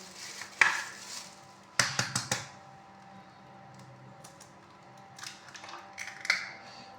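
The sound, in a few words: mixing eggs with salt and chili in a bowl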